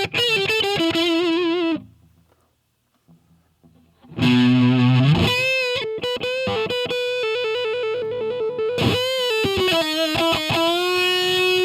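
Re-amped electric guitar with crunch distortion plays fast lead lines, loud and close, breaking off briefly into near silence before resuming with rapid runs and sustained notes.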